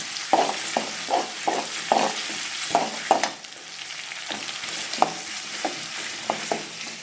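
Crushed ginger and garlic sizzle in hot oil in a home kitchen pan, with a steady soft frying hiss broken by a series of sharp spatula scrapes and taps against the pan.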